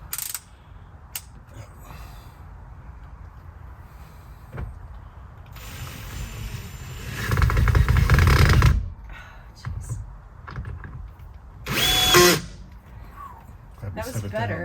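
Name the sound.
power drill driving screws into van ceiling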